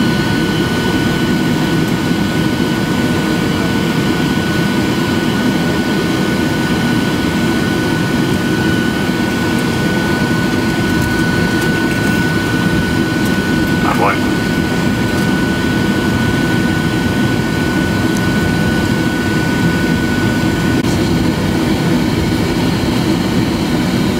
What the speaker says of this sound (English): we are taxiing to the runway, ready to go